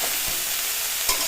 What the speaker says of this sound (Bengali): এভাবে ঢেকে ঢেকে ভেজে নেব